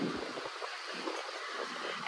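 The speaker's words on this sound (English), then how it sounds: "It's so windy." Strong wind roars and buffets against the microphone on a rainy day in Siargao, Philippines, in a continuous, gusty rush, with no clear voices over it.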